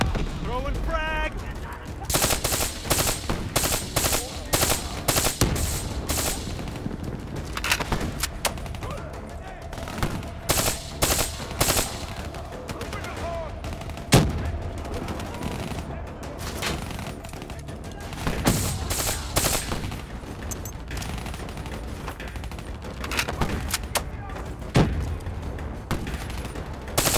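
Sustained gunfire and a frag grenade explosion in Call of Duty: Black Ops III, with rapid bursts and single shots crackling loudly throughout, heavy booms standing out, over a dense battlefield din.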